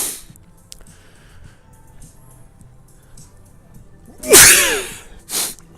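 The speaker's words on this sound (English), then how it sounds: "I've just had a sneezing fit." Two sharp sneezes from a sneezing fit burst out close and loud near the end, the second shorter than the first, following a stretch of quiet background.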